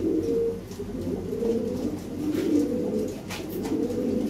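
Lahori pigeons coo in low, throaty, rolling calls that repeat steadily and overlap close by, with no talk.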